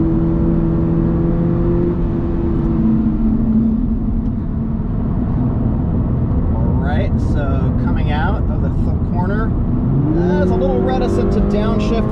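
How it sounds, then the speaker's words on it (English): Toyota GR86 with an automatic gearbox accelerates hard on a racetrack, engine loud and close, its pitch climbing, dropping at a shift, then rising again, with a voice talking over it. "So this is the automatic, and I've just got it in automatic mode. I'm gonna let it shift itself, see how it does."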